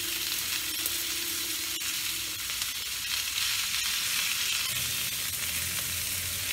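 Onions for a snakehead fish curry (shol macher kalia) sizzle and fry steadily in hot oil in a pan, a loud continuous crackle throughout with faint stirring and no talk.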